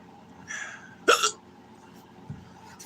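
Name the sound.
hiccup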